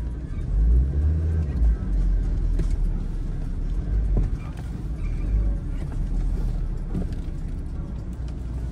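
A car drives near a bridge in Manali, its engine producing a steady low rumble that swells and eases over several seconds, close by and continuous.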